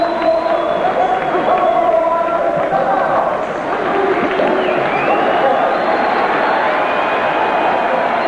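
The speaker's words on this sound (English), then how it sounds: "Crowd cheering the introduction of Pernell Pete Whitaker." A boxing arena crowd roars and cheers throughout the introduction of boxer Pernell Whitaker, a loud, sustained mass of voices with whistles and shouts.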